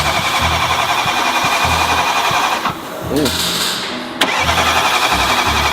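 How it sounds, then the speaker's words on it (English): A crash-damaged, rebuilt BMW M3 engine cranks over repeatedly to build oil pressure in a steady rhythmic churn, with music playing loudly over it and a short pause in the middle. "first we crank the car over a few times to generate oil pressure"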